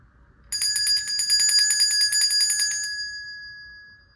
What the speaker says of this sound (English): I'm about to ring the bell, y'all.